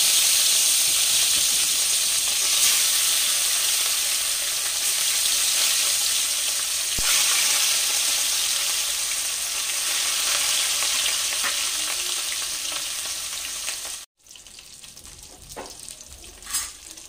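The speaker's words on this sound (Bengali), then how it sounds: "তেলটা গরম হয়ে গেছে, এবার মাছগুলো আমি ওই তেলের মধ্যে ছেড়ে দিচ্ছি।" Pieces of katla fish sizzle steadily in hot oil in a kitchen pan, a loud, dense hiss that runs for most of the stretch, then drops off abruptly to a quieter, fainter crackle.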